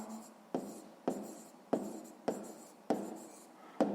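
A pen writes in a school notebook during a sixth-grade maths exercise, with six repeated strokes at a steady pace, close and fairly quiet, each one a short scratchy burst that fades.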